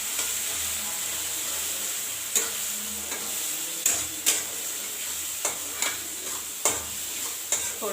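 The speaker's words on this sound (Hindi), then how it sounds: "थोड़ी देर मसाले को पकाएंगे।" Spices of turmeric, chili and coriander powder sizzling in a pan with a steady frying hiss, while a spoon scrapes and taps the pan in periodic stirring strokes, close and alone.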